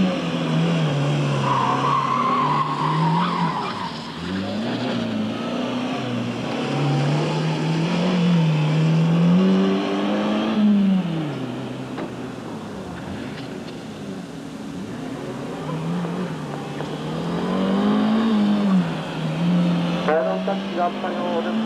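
A gymkhana rally car at Kanetsu Sportsland in 1988 repeatedly revs, skids and accelerates around the course, engine pitch rising and falling with tire squeal, while a commentator talks over it.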